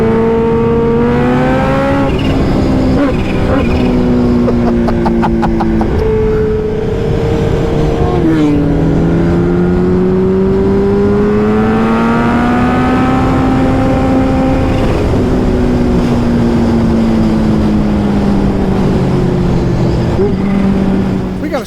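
A motorcycle pulls away in first gear, its engine rising and falling in strong, close revving sweeps that climb and drop repeatedly as it gathers speed.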